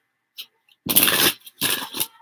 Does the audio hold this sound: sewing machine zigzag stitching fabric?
no